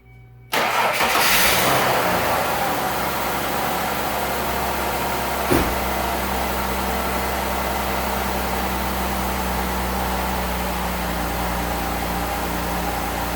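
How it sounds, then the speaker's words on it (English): Ford Escape engine cranks and fires up with a loud burst, then settles into a steady idle that continues close by, with a brief clunk partway through. "start the vehicle and check for leaks"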